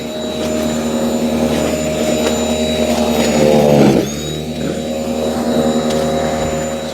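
A WORX 40V 20-inch cordless battery snow blower whines steadily while clearing deep, heavy snow, the motor loading up and then dipping sharply as it bogs down before recovering to a continuous drone; loud and close, no talk.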